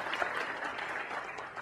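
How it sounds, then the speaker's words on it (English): Steady audience applause for a volunteer named Somil who has just come up front, a dense, even wash of clapping throughout the short moment with no talk over it. "Let's give Somil a round of applause, guys"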